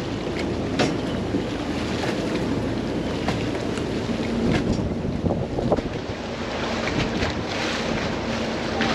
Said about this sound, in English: Oh, there's another boat coming.